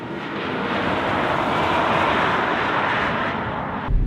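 Tesla Model X Performance accelerating at full throttle on a race track, a loud, steady broadband rush of wind, tyre and drivetrain noise that swells and holds for several seconds before a sudden low thump at the end.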